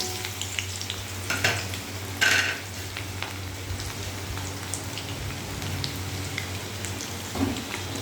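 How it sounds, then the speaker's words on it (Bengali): Onion and garlic fry in hot oil with a steady close sizzle and crackle, a few sharper spatters and stirring knocks along the way, and no talk. "এবার পেঁয়াজ আর রসুনটাকে তেলের পরে দিয়ে দেবো।"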